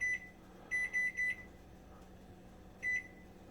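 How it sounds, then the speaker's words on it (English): A kitchen timer beeps in short electronic bursts while hot wings are being cooked, a single beep, then a quick run of about four, then one more after a pause, fairly close in a quiet room. "Kitchen timer, 20"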